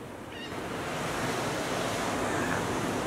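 Ocean surf on a beach at Yelapa, Mexico rolls in as a continuous broad wash of breaking waves, steady and fairly close, with some wind on the microphone and no talk.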